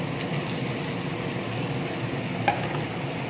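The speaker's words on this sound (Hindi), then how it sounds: "इसे 1 मिनट हो गया है ऑयल में फ्राई होते हुए। अब इसमें जो बचा हुआ मसाला था वो भी शामिल कर देंगे।" Okra frying in oil as leftover spice masala is stirred in, a steady soft sizzle with faint scraping and one small clink, no voices.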